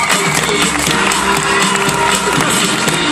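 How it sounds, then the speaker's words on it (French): Loud, dense applause and cheering from a large crowd at a wedding fair prize draw, sustained clapping with scattered whoops filling the space throughout. "Applaudissements pour Coralie."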